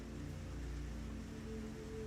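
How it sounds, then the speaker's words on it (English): Steady rain pours continuously at night in New Orleans, a soft, even hiss, with a faint low hum and tones underneath. "although it is the rain that you mostly hear"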